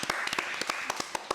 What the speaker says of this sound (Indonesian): Sekali lagi kita berikan aplaus dulu.